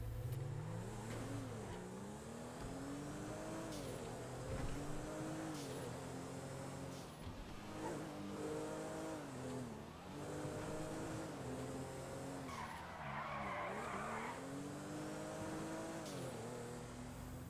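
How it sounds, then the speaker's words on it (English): The Sentinel, a GTA V car based on a BMW 3 Series, is driven through a series of gear changes, its engine note climbing and dropping repeatedly, with a short hiss of noise partway through. "This is the Sentinel, which is based on a BMW 3 Series."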